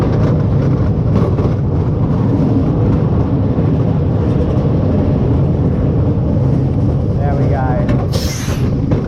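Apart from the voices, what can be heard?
roller coaster train running on track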